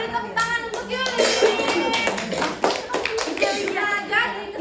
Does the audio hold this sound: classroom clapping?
yes